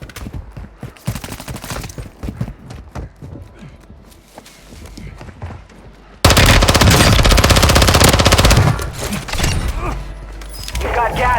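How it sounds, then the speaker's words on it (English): Gunfire in the video game Warzone 2, close and loud, with scattered shots early followed by a dense, continuous burst of automatic fire that runs to the end. "I'm taking fire!"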